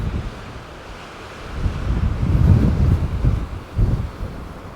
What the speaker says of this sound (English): the wind coming off the top of the mountains with all that snow on there, that wind's kind of chilly